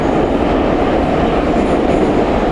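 A metro train in a crowded subway station gives a loud, steady, close rumble and roar of wheels and carriages that fills the whole moment, with no voices standing out.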